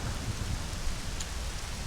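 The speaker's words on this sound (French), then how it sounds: "c'est sous la pluie que je vous laisse." Steady rain falls throughout, a dense broadband patter with low rumbling underneath, continuous and fairly close, with no voices.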